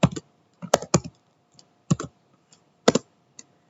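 Computer keyboard keys clatter as HTML code is typed, in short uneven bursts of sharp, close clicks separated by brief pauses. The surroundings are otherwise quiet.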